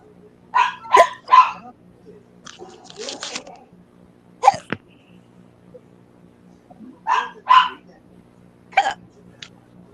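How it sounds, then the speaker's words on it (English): A person hiccups several times in quick clusters, sharp and close, with short pauses between the bursts and faint background hum. "somebody got hiccups."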